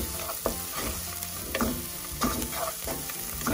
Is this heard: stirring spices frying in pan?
yes